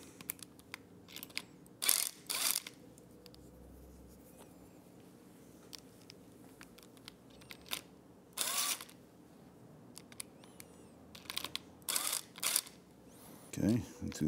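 A 5mm Allen key works handlebar screws on a 2024 Triumph Speed Twin 1200 during a cafe bar install, giving short metallic ratcheting clicks and scrapes in scattered bursts, close up and fairly quiet.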